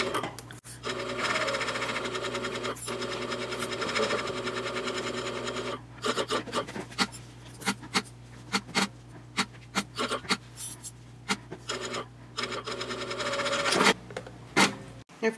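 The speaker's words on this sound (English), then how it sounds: "and then sew across the front." A sewing machine stitches a seam across the front of a wristlet pouch, with long runs of fast, even motor-driven clatter broken by short pauses and bursts, close and loud, no talk.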